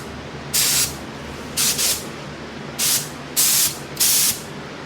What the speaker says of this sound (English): make sure the gun is all set, check our spray pattern, and we'll go paint